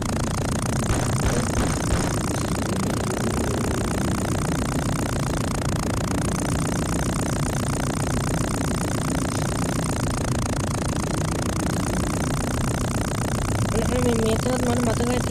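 A helicopter in the Payback 2 video game, a steady droning engine with rotor thrum running throughout, close and continuous.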